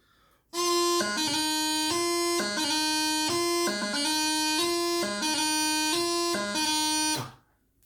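Bagpipe playing a steady drone-backed tune with quick, light grace-note flicks, a light throw on D, between sustained melody notes, loud and continuous for several seconds, then stopping.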